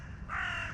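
A single crow caws near a field with heavy traffic around it, one harsh drawn-out call rising out of a low steady rumble, fairly close and moderately loud.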